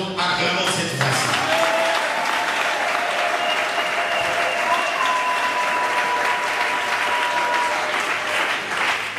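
A church congregation claps at length, a loud dense wash of applause that holds steady throughout, with a faint tonal hum running beneath it.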